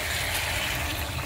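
Water poured into a pot of goat meat as it cooks to tenderize, giving a steady, fairly loud watery rush and trickle with no talking.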